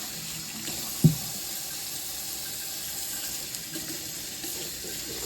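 Tap running steadily into a sink while freshly harvested garden produce is rinsed, a constant even hiss of water with a single brief knock near the start.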